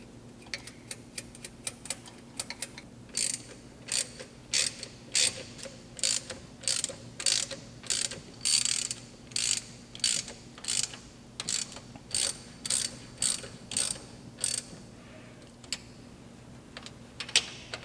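A ratchet tightens bolts on a De Tomaso Pantera carburetor in quick bursts of rapid clicking separated by short pauses, repeated many times at close range, with no one speaking.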